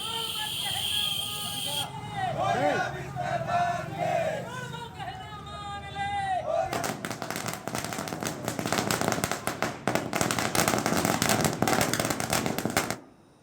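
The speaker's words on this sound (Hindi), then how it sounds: "कांग्रेस कार्यकर्ताओं ने जमकर आतिशबाजी की है।" Fireworks and firecrackers set off by Congress party workers celebrating in Madhya Pradesh crackle in dense, rapid bursts that build to a loud, sustained barrage, with a crowd shouting slogans over the first half.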